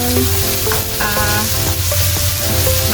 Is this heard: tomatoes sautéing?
yes